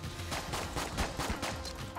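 Sharp gunshot bursts from the game Enter the Gungeon fire repeatedly at a steady, loud level, with several quick cracks spread across two seconds over a dense background.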